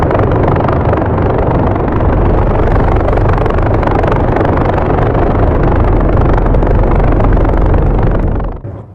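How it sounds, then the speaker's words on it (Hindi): A helicopter is heard up close, its loud, steady rotor and engine roar holding for several seconds before cutting off sharply at the end, with no voices. "हेलीकॉप्टर से उतारा गया, उसके बाद कोर्ट लेकर जाया गया।"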